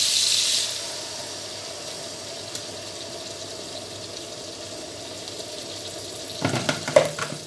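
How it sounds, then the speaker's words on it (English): Tomato dropped into a hot pan, with a loud burst of sizzling at first that settles into a steady frying hiss, then stirring clatter near the end. "so now I'll be adding the tomato."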